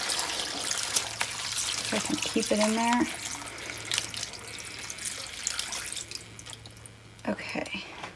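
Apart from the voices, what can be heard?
water poured into a crock pot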